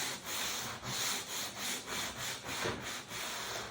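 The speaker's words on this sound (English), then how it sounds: "I'm going to come right on that edge and sand down there to get this rounded over." Sandpaper rubs along the edge of a wooden Sunfish sailboat rudder in about ten rhythmic back-and-forth strokes, a close, fairly loud scratchy hiss rounding over the edge, with no talking.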